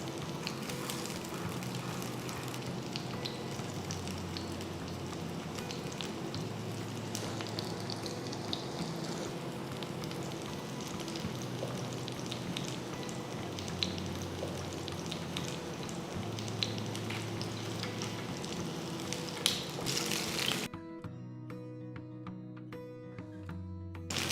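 Fish frying in sesame oil, a continuous, fairly soft crackling sizzle that runs on steadily before cutting off near the end, with no voices.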